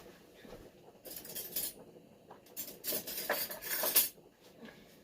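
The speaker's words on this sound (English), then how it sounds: "let me grab a spoon here real quick" A metal spoon clinks and scrapes as it is picked out from among cutlery and dishes, several short bursts of jangling close by with quiet gaps between.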